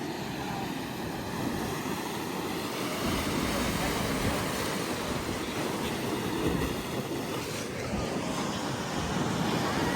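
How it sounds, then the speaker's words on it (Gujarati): A continuous, heavy roar of ocean surf at full high tide rolls on without pause, large waves breaking and churning nearby with wind mixed in. "અત્યારે ફૂલ ભરતી છે મોજા બહુ મોટા આવે છે"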